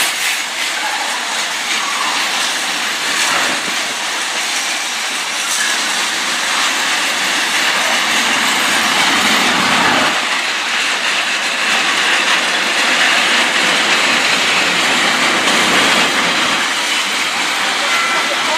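Freight train passing close by on a British main line: a loud, continuous rumble and clatter of wagons rolling past without a break for the whole stretch.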